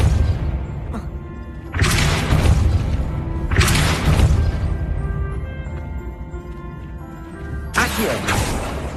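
Depulso spell cast in the Hogwarts Legacy video game, heard as a few heavy booming whooshes with thuds and crashes over a steady low game rumble, bursts spaced a couple of seconds apart.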